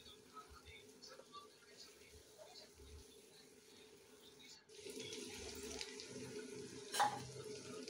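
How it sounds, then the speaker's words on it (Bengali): Water pours and splashes steadily into a pan of beef brain being cooked, with a fuller, louder stream in the second half and a brief sharp clink near the end. "পরিমাণ মতো একটু পানি দিয়ে দিব।"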